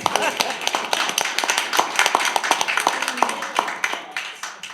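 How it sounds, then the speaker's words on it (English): Applause at a borough council legislative meeting, a dense run of many hands clapping steadily for several seconds in an indoor chamber, fairly close and loud, with no talking over it. "Now we can give you a clap."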